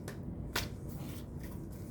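Tarot cards are shuffled by hand, with soft papery riffles and one sharper slap, quiet and close with no voices.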